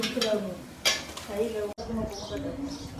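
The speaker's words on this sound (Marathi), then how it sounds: "मम्मी इथं कांदा फ्राय करत आहे" Onion frying in a pan on a home kitchen stove for a Koli-style fish biryani, a soft steady sizzle with occasional stirring and utensil clinks running beneath nearby talking voices.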